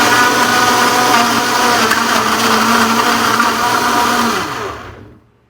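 A loud blender grinding celery with water whirs steadily with a dense grinding roar, then the motor winds down and falls silent near the end.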